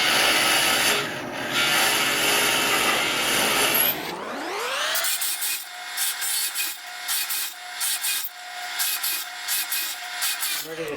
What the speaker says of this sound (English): I'm going to cut about 120 plugs for the beam caps that I installed.